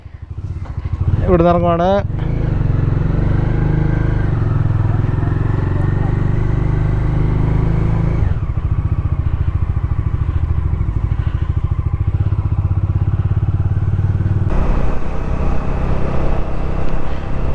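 A motorcycle engine starts with a brief sputter and then runs steadily as the bike rides off, its loud drone carrying for the whole stretch and shifting tone midway, with a person speaking briefly over it near the start.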